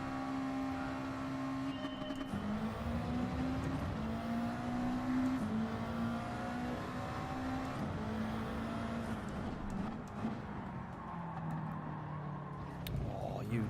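Subaru WRX engine in Gran Turismo 7 during an online race, a steady droning tone that rises and shifts through gear changes out of corners, loud and continuous with a voice talking faintly underneath.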